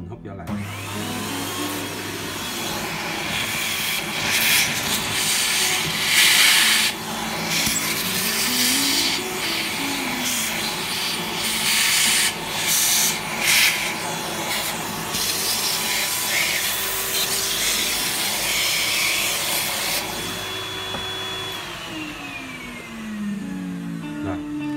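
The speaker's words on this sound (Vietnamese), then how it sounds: "Ở đây mình có máy hút bụi, mình hút vô lại." A vacuum cleaner sucks up spilled waste toner while an HP LaserJet P2035 laser printer cartridge is being refilled, giving a loud, continuous, close whine with pitch shifts as the nozzle moves.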